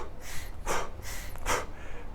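A person demonstrates a wrong way of breathing, taking two or three sharp, gasping inhalations in a steady rhythm, close and fairly loud with no talk over them.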